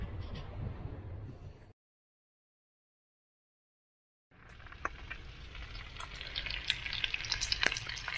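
Bacon sizzles and spits in a frying pan at a seaside campervan stop, a steady close crackle with sharp pops that cuts out for a few seconds and then returns.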